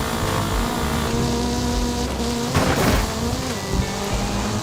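Race car engine in the Forza video game, a steady loud drone with shifting harmonic pitch that swells briefly near the middle, heard alone without voices.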